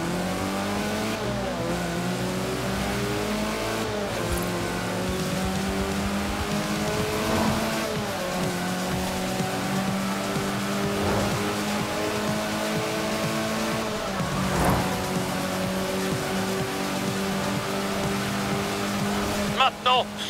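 Car accelerating hard at full throttle in Forza Horizon 4, the engine tone climbing steadily through repeated gear shifts, loud and continuous over a road setting.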